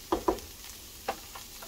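Onion, tomato and chile stirred in a frying pan for alambre tacos, a few short scraping stir strokes over a faint, steady sizzle, close and fairly quiet.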